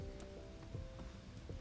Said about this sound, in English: you've lit a fire in the rain. And it's not going out.